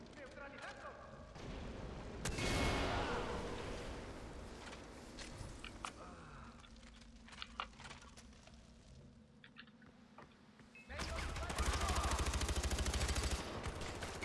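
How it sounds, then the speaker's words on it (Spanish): Gunfire in Far Cry 4 breaks out in sporadic bursts over a noisy game soundscape, with sharp shots scattered through the middle and a loud sustained blast near the end. "Le he dado yo que sé de tiros"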